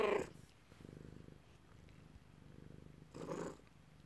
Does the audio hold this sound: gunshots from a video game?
no